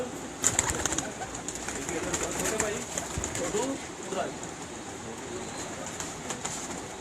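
Pigeons coo and flutter faintly nearby while people talk over them, with a steady background hum throughout.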